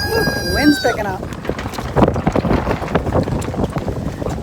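Wind gusting across a backyard garden by a chicken coop, a steady broadband rush buffeting the microphone, with a person talking briefly at the start.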